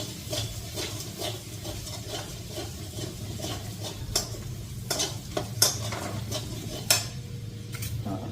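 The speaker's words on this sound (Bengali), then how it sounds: "মশলাটা ভাজা নিই" Spices frying in a pan with turmeric and chilli powder, a steady low sizzle with frequent scraping stirs and spatula clinks, close and alone without talk.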